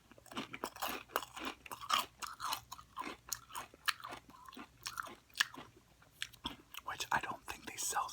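Close, crunchy chewing of Tostitos dipper chips with nacho cheese jalapeno dip, repeated bites and crackling mastication in a quiet room, with soft whispering in between.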